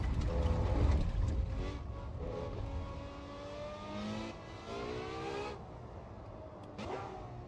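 A car engine in the racing game Assetto Corsa EVO revs up and down through several gear changes with downshift blips, moderately loud over a rumbling background.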